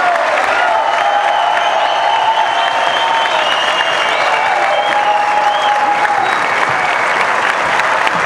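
Sustained audience applause at a political gathering in Argentina, loud and dense throughout with scattered cheers and shouts rising above the steady clapping.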